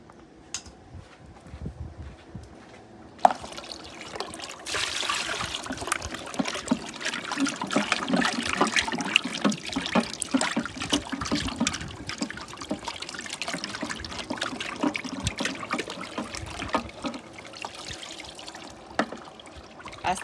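Water runs steadily from a tap and splashes over beef being rinsed, with a sharp clunk early on and continuous trickling and sloshing throughout.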